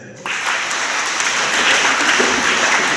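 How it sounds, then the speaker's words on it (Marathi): A school crowd at a Constitution Day event bursts into loud, sustained applause that starts abruptly and keeps up steadily at close range. "एकदा जोरदार टाळ्या त्यांच्यासाठी"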